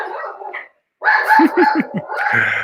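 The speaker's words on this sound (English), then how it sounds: "He sounds like he's barking like a watchdog." A dog barks like a watchdog in a burst of four quick, close barks, with a person talking before and around them.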